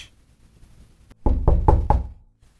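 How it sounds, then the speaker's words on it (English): Four light knocks on a door come in quick, even succession, loud and close after near silence. "Then the knocking began."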